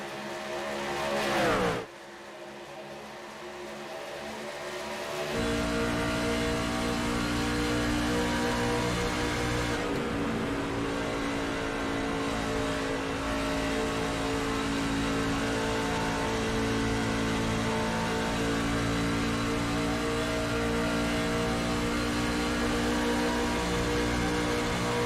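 Race trucks at Chicagoland roar past in a loud, sustained engine drone, a brief dip near the start giving way to a dense pack of revving motors that holds steady and close throughout.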